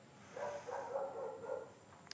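A dog gives a run of soft, quick yips and barks indoors, somewhat distant and faint, followed by a brief sharp click.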